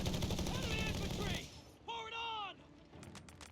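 Machine gun bursts in the strategy game Company of Heroes, loud rapid fire at the start, then tonal game effects and lighter clicks, with a voice speaking over parts of it.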